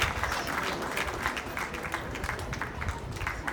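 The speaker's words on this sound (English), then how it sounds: "Let's give them a round of applause as they make their way back to the crowd." Audience applause at the 605 Innovation District launch event, a dense, steady wash of many hands clapping throughout, fairly distant and even in loudness with no voices over it.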